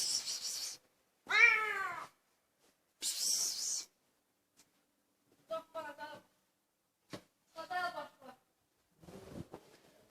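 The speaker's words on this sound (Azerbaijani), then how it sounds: "Pişiklərin davası düşmüşdü orada." Cats fighting outdoors let out yowling, wavering cries in separate bursts, the first ones loud and drawn out, later ones shorter and choppier, with quiet gaps between them.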